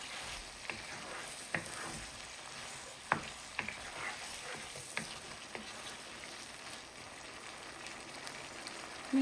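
Eggplant and potato fish curry being stirred in a pan after the lid comes off: a soft, steady simmering sizzle with faint scraping taps of a spoon, quiet and without talk.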